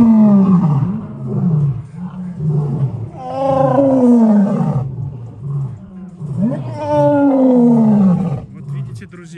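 Lions at Taigan safari park give loud, rolling roars in two long bouts with a short pause between, close and powerful, while a voice talks faintly underneath.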